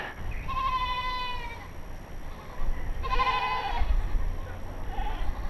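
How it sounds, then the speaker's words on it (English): Goats bleat twice, wavering cries a couple of seconds apart, heard over outdoor background noise. "I think the goats are happy to see us."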